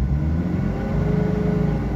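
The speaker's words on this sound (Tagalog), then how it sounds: "So napakalakas na nung ugong ng makina" A Mitsubishi Adventure engine runs at raised revs, a loud, steady mechanical drone with a low rumble and a faint whine, close and continuous with no talk.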